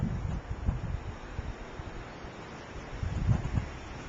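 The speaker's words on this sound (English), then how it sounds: "A little windy." Wind gusting outdoors after a December snow storm, a steady rushing roar with low buffeting puffs against the microphone and no voices.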